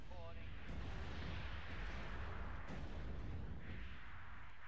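Missiles firing in the Act of Aggression strategy video game make deep rumbling booms and blasts that roll continuously at moderate loudness, with someone talking over the battle.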